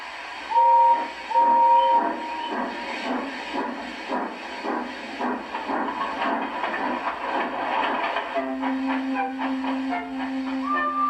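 A steam train chugs steadily with rhythmic puffs and hissing, two short whistle toots near the start and a longer whistle blast toward the end.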